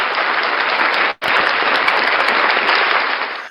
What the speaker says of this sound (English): And round of applause for old Squishy Gardner